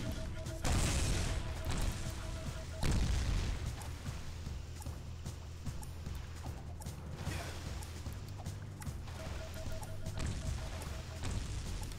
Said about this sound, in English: Switch zones, dodge the explosion.